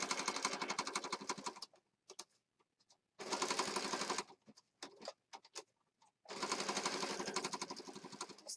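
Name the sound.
sewing machine stitching around a junk journal embellishment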